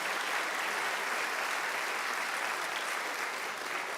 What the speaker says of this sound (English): Let's give another round of applause to our brave